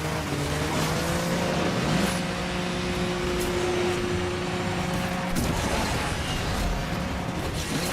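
Lamborghini Countach LPI racing in the Asphalt video game, a steady engine drone with a pitch rise near two seconds and a shift around five seconds, continuous and upfront with no talk.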